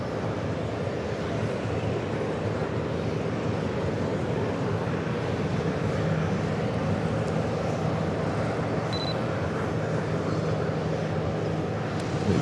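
Caribbean Airlines Boeing 737 MAX 8 jet at New York's JFK airport, a steady broadband engine roar heard from a distance, unbroken and fairly faint throughout.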